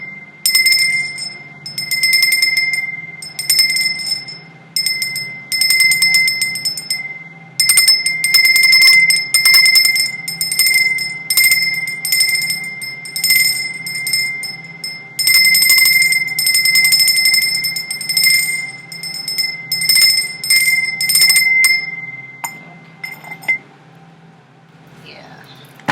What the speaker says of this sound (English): Let's ring the bell just to clear the energy